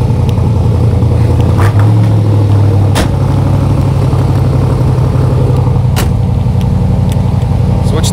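A loud, close 427 V8 in a 1967 Corvette convertible with 435 hp tri-power and four-speed burbles and revs up, its deep throaty roar shifting pitch with sharp bursts along the way.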